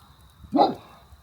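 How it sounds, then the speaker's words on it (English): One dog in a neighborhood yard gives a single short bark at mid distance, clear over faint background noise. "Lincoln, you're getting all the dogs in the neighborhood barking."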